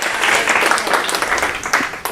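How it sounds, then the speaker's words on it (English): An audience claps together in a brief, dense burst of applause that lasts about two seconds and sounds close and fairly loud, with no voices over it. "Everyone clap."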